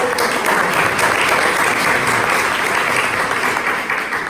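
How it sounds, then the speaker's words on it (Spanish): An audience at a business presentation applauds first-time guests, a dense, steady wash of clapping from many hands, loud and close, lasting throughout and easing slightly at the end. "Give them a hand."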